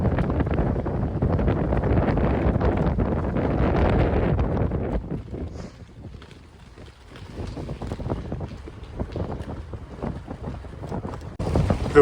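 Strong headwind roaring through a hillside tunnel on a bikepacking ride, a loud, steady broadband wind buffeting the microphone, dipping briefly midway before gusting back up.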